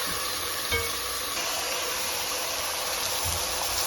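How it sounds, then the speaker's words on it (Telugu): Curry leaves and ginger garlic paste sizzle steadily in a hot pan for chicken kulambu, a dense continuous frying hiss with a couple of soft stirring knocks and no talk. "కరివేపాకు, జింజర్ గార్లిక్ పేస్ట్ అన్నీ వేసుకొని బాగా మగ్గనిచ్చుకోవాలి"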